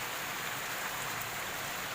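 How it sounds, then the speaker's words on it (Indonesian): Heavy rain pours steadily at a river bank during fishing on the Cimanuk River, a dense, even hiss of drops on surfaces with no pauses and no voices. "kita sudahin dulu mancingnya karena dikarenakan hujan deras ya"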